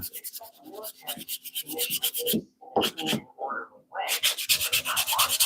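Repeated scratchy strokes of old cheap sanding discs on wood in a wood shop, close and fairly loud, interrupted by a couple of short pauses before brisk rubbing resumes.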